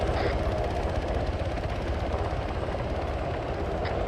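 A helicopter in a military game mission thrums steadily up close, its rotor chop a continuous rhythmic low pulsing that stays loud and even throughout.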